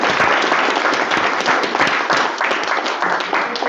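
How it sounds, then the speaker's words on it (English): Audience applause closing a panel discussion, a steady dense clapping from a large crowd that fills the whole stretch at even loudness with no talk over it. "Can we just give another round of"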